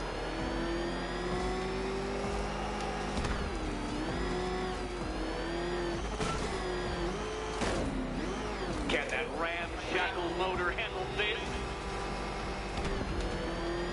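Batmobile engine in Batman: Arkham Knight revving and surging up and down, with a steady mid-pitched drone, under someone talking over the gameplay.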